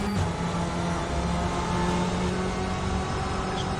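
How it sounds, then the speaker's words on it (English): Racing car engines, among them a Corvette, drone and rev steadily in a sim racing game, a dense, constant engine roar with no pauses. "I'm still falling in love with the engine sound of all of these cars, especially the Corvette"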